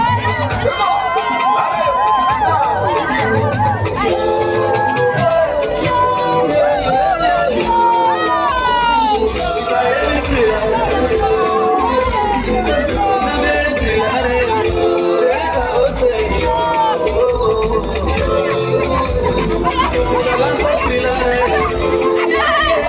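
Festival crowd at the Bayelsa Food and Art Festival reacting to a dance troupe performing to a popular Izon rhythm, with loud continuous cheering, shouting and babble layered over pounding music, dense and unbroken throughout.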